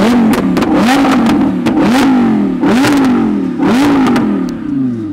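A Lamborghini engine revs hard in repeated bursts, its pitch climbing and dropping about four times in quick succession, loud and close with no talking over it.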